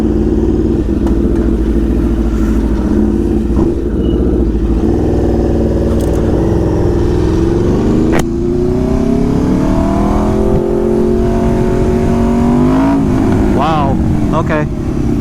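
An Aprilia RSV4 motorcycle fitted with a race exhaust and Gabro Upmap T800 ECU flash tune accelerates hard, its loud close engine note rising and falling through gear changes, with wind rush and a rider talking over it.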